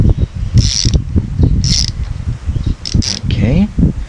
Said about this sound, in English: 14 millimeter tool for the preload nut. Okay, now you just unscrew